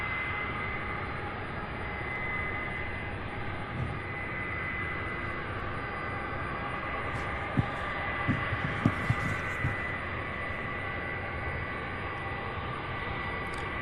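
An Airbus A300 sits with its engines running before taxiing at Louisville's UPS Worldport, giving a steady, broad jet hum and low throb that holds constant, with a few faint thumps near the end.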